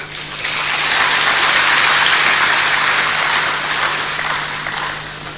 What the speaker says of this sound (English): We need to applaud this man.